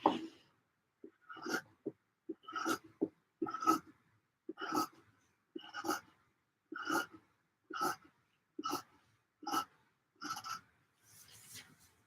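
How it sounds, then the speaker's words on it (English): Repeated short snipping and crunching cuts from scissors, about a dozen in a steady rhythm, close and fairly quiet, with brief pauses between strokes. "They do sound nice, these scissors,"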